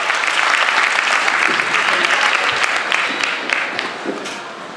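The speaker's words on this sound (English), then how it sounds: "So can we have a round of applause for Gabe Lewis and Gabe Lionel." A crowd at a school winter concert bursts into loud, full applause after an original performance by two students; the clapping stays dense and then begins to taper off near the end.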